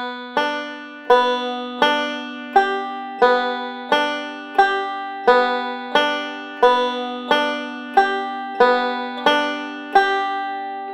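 Banjo picking a roll: bright, evenly spaced plucked notes repeat in a steady rhythmic pattern, close and clear, with no talking.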